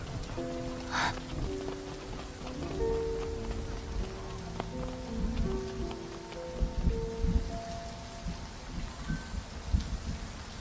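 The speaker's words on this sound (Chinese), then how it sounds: "下雨了，快走。" Steady rain falls on surfaces outdoors, a soft continuous patter with scattered close drops and faint movement sounds, and no talking.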